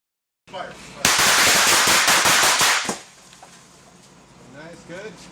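Gunfire on a film set erupts on command: a rapid, loud burst of crackling shots lasting about two seconds, then a lower ambient tail with people talking faintly afterward.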